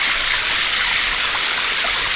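Cold water pours and splashes steadily outdoors while a tie-dyed V-neck tee is rinsed, a continuous bright rushing stream with no pauses.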